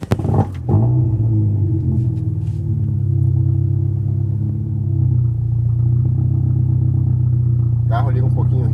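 A Ford Escort with a Zetec engine idles close by after starting, a loud steady low rumble that runs rich at first and then settles as the revs ease down, with a faint voice near the end.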